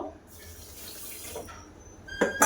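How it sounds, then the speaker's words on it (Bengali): Water poured from a bowl into a large basin holding 250 grams of sugar, heard as a steady close pouring splash for about two seconds, with a louder clatter of splashing at the end. "আর ওই বাটির আমি 1 বাটি জল দিয়ে দেব।"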